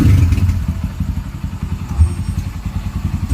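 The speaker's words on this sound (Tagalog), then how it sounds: "nasakyan ulit ni Father ang ating Kawasaki Barako" Restored 2005 Kawasaki Barako motorcycle engine idling up close, a loud, rapid low-pitched putter with slight mechanical clatter, running steadily throughout without any voices.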